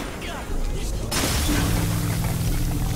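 A loud, sudden blast erupts in the video game Hatred and leaves a dense, sustained rumble of debris and burning noise that continues to the end.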